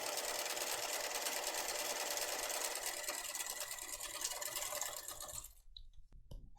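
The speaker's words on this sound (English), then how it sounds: "Sew across there to keep it in place." A sewing machine stitches a loop onto a backpack with matching thread, giving a fast, steady mechanical whir that runs close and loud for several seconds, then cuts off into near silence.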